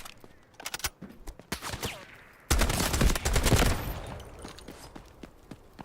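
Sniper and rifle gunfire in the Delta Force extraction shooter, a string of sharp cracks with a loud burst of rapid shots in the middle, then scattered reports.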